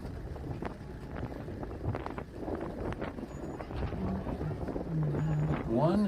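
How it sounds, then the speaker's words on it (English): Gusting wind buffets the microphone at a baseball game, a low rumbling roar that swells and grows loudest toward the end, with faint background chatter underneath. "As another gust of wind comes back up."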